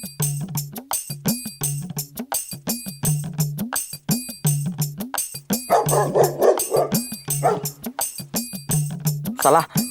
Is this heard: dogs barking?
yes